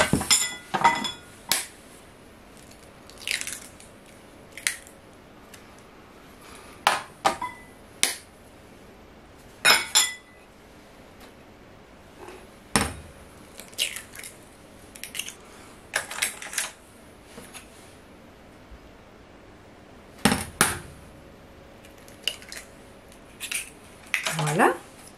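Cake batter for a rum-raisin cake is mixed in a bowl, giving sharp intermittent clinks and scrapes of a utensil against the bowl, close and bursty, with speech between the strokes.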